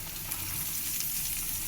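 Chopped onion, ginger, garlic and green chilli frying in a pan, a steady bright sizzle that holds evenly throughout the short moment, close and alone.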